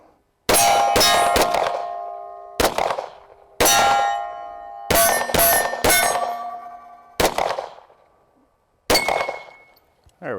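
Roughly ten shots from a 10mm Springfield XD-M pistol fired one-handed, each ending in a loud, ringing clang off a steel target, spaced irregularly in bursts of two or three, with long metallic decays between.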